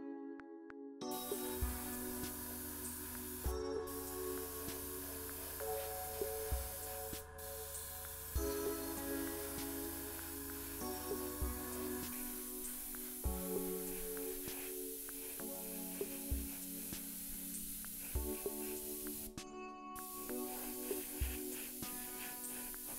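An airbrush spraying gray primer onto a scale model, a soft continuous hiss with brief stops, heard faintly under steady background music.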